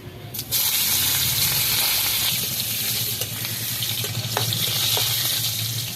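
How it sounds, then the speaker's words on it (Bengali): Chopped onions drop into hot oil left from frying fish, bursting into a loud sizzle that settles into a steady close frying roar over a low hum, with occasional clinks. "এবার ওই তেলে অল্প করে পেঁয়াজ কুচি দেবো"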